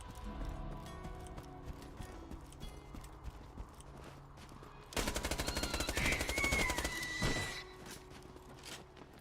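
Rapid SMG fire in Borderlands 2 erupts about halfway through as a dense, fast rattle of shots, after a quieter stretch of game ambience with clopping, hoof-like thuds.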